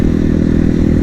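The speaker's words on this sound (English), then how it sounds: "I'm just kind of revving the piss out of it." Supermoto motorcycle engine held at high revs without shifting, a loud, close, continuous buzzing drone with steady pulsing, alone with no voices.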